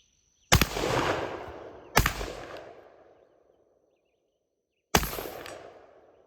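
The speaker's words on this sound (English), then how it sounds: "see if we can hit that steel down there at 100 with a Defender round" Three loud, close slug blasts from a Mossberg 930 shotgun fired at a steel target 100 yards away, each booming report trailing off in a long echo, with uneven gaps between shots.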